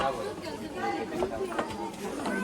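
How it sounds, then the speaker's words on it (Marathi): Close crowd chatter at Ganpatipule temple, a busy murmur of many overlapping voices filling the short stretch without pause. "मित्रांनो आज मंदिरात गर्दी बघा किती आहे"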